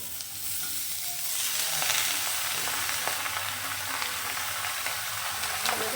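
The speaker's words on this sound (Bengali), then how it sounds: "এবার আমি যে চিচিঙ্গাগুলো কেটে রেখেছিলাম তো সেই চিচিঙ্গাগুলোকে দিয়ে দিচ্ছি এর মধ্যে" Ridge gourd pieces tossed into fried onions crackle in a pan, a dense, even sizzle throughout with faint stirring scrapes and crackles.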